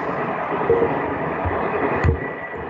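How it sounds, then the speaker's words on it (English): A train passes at a steady, even level, giving a broad rushing noise with a low rumble that lasts the whole time and swells slightly near the end. "Yeah, sorry, that's the train."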